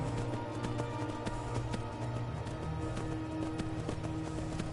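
Horse hooves in Skyrim galloping up a mountain, a quick regular series of sharp clip-clop strikes over a low steady background, fairly faint and without speech.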